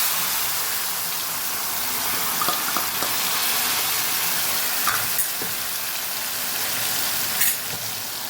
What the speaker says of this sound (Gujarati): ચપટી આપણે અજમા ઉમેરી દઈશું, 5 ચમચી જેટલી હિંગ ઉમેરશું અને મસાલો જે તૈયાર કરેલો એનો વઘાર કરી દઈશું